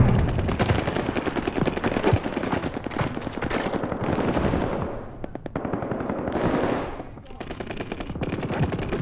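Sustained bursts of MG 42 machine gun fire in Call of Duty Vanguard multiplayer, loud and rapid with brief pauses between long strings of shots, other battlefield gunfire mixed in.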